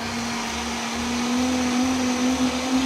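Blender pureeing sweet corn gazpacho soup, a steady close motor hum with a constant whirring tone and slight pulsing low churn, loud and uninterrupted, with no talking.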